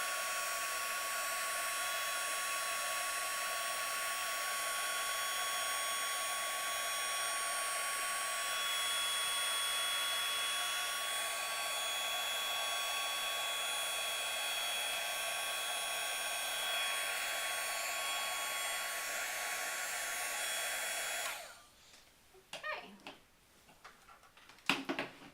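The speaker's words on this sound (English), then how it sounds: "I'm going to go ahead and start embossing that." Heat embossing tool blowing hot air over a Cricut lollipop paper flower, a steady loud whirring hum lasting about twenty seconds before cutting off, followed by a few light taps and clicks.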